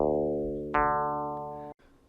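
An Arturia MicroFreak synthesizer preset plays two sustained, harmonically rich tones in quick succession, the second entering sharply under a bright attack and both slowly fading, before a sudden cutoff leaves faint room noise.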